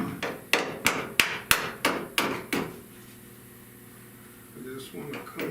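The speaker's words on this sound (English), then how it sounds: "hammer that down flush." Hammer blows on car body metal while it is tapped flush during rust repair near a windshield, about seven sharp metallic strikes in quick succession, then a quieter pause with a brief word spoken.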